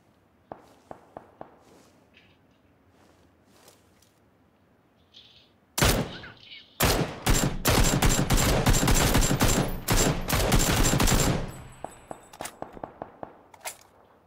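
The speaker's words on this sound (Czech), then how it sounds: "Bacha na střelbu, hele." Gunfire from the video game PUBG played on Xbox One S: a few faint clicks, then a loud sustained burst of rapid automatic shots lasting several seconds, followed by scattered lighter pops.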